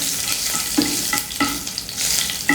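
Fennel seeds, dried red chillies and a bay leaf fry in hot oil, a close crackling sizzle broken by several scraping strokes of a spoon stirring the pan.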